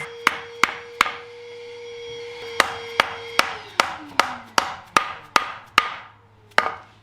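Sharp hammer blows strike the joints of a wooden shelving frame about a dozen times in an uneven rhythm, each crack ringing briefly, with a low hum in the background.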